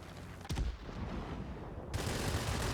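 Aircraft cannon and .50 caliber machine gun fire from a VB 10 fighter in World of Warplanes, a sharp burst followed by sustained rapid gunfire and engine roar.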